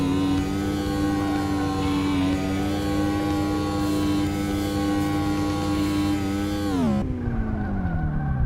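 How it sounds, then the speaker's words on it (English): The Mazda RX-7 rotary engine in Car Mechanic Simulator 2018 drones at high revs with a buzzy harmonic whine, holding steady before dropping sharply as it winds down. "Listen to that rotary go."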